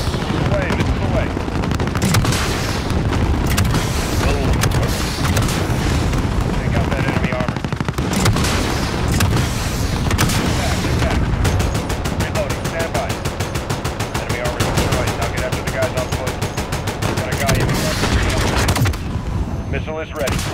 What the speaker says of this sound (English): Inbound with 30 Mike. Mike, here comes gun run.